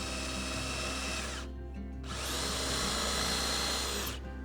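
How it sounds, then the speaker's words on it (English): A power drill bores into a wooden board for a small shelf, whining loudly and steadily in two close bursts with a brief pause between, and no talk. "I'm going to be pushing with this hand down with the drill."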